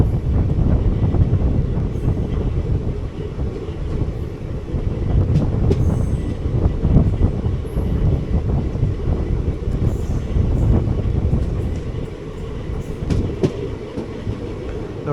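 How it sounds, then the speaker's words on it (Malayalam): A WAP-7 electric locomotive hauling a train past on the opposite line, a steady loud rumble of wheels and rattling carriages with faint clicks and squeals, continuous and close, no talk. "ഓപ്പോസിറ്റ് ലൈനിലൊരു വാപ്പ് 7 ഹൗൾഡ് ട്രെയിൻ വരുന്നുണ്ട്."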